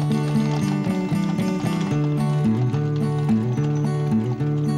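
Horses at the 1964 Calgary Stampede rodeo give a steady clip-clop of hooves, blended under continuous loud music.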